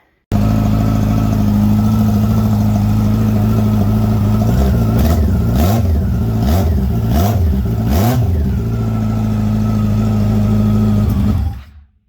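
Yamaha FJR 1300 motorcycle engine running after a motor swap, idling loud and close with a run of sharp revs in the middle before it shuts off at the end.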